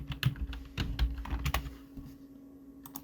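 Keys clatter on a computer keyboard as text is typed, quick irregular clicks in short bursts that thin out toward the end, fairly close and quiet, with no voices.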